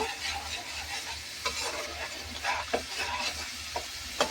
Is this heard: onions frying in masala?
yes